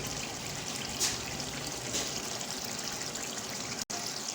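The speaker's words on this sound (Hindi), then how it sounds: "ये हमने इसमें 4 गिलास पानी के ऐड कर लिया है।" Water is poured into a pot of cooking chicken haleem as a steady, hissing trickle, close and continuous with a faint splash or two.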